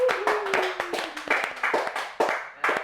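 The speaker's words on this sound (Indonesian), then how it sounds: "jadi tepuk tangan dulu" An audience at a campaign talk claps in short uneven bursts of hands, near and fairly loud, with a faint voice threading underneath.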